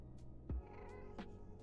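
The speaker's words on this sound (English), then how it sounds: "I hear one of the kitties" A cat meows in the Minecraft video game, two short in-game mews spaced about half a second apart, one a little louder, over a quiet background.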